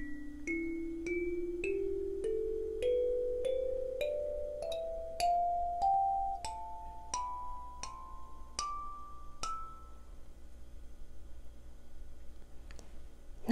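An ammoon AM-17CY kalimba plucked note by note in a clear rising scale, about a dozen bright metallic tines, each ringing on and fading, played alone and close.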